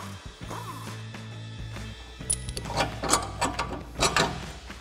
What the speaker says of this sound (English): we can grab an 18mm wrench for the bolt side and a 21mm socket for the nut side